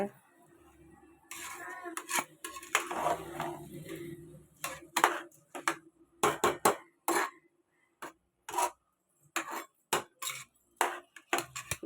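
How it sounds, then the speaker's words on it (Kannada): Rice with masala roasting in a pan or cooker while tomato bath is made, heard as a series of distinct metallic scrapes and taps of a spoon stirring, growing more regular toward the end, with faint background hum. "ಅಕ್ಕಿ ಒಂದು 2 ನಿಮಿಷ ಹುರ್ಕೊಂಡ್ರೆ ಸಾಕು."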